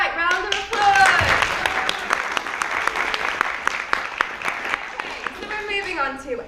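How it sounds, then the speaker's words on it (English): A classroom of students claps in a short round of applause after a biology group quiz question, with scattered individual hand claps standing out and voices talking and calling out over the clapping. "Round of applause!"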